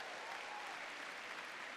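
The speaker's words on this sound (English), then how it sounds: "So round of applause to the red coats." An audience at an opening ceremony applauds volunteers in red coats, producing a steady, even roar of many hands clapping, heard from a distance and fairly quiet.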